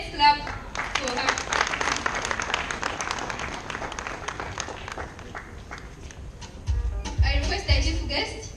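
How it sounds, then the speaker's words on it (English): An audience at a graduation awards ceremony applauds. The clapping is steady and moderately loud, then thins out, followed by muffled thumps and voices near the end. "Let's clap for her."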